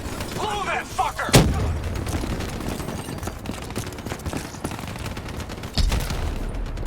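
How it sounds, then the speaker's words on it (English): A detonation rips through tunnel supports in Call of Duty Black Ops 3, one sharp loud blast followed by rumbling gunfire and a second burst, with combat noise throughout. "Detonation confirmed."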